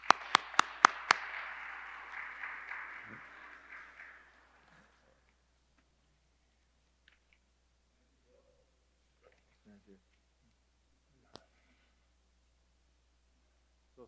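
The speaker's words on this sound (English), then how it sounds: "you need to give yourselves" A parish congregation at Sunday Mass breaks into a round of applause inside the church. The clapping is sharp at first, then settles into a steady patter that fades away after about four seconds, leaving near silence.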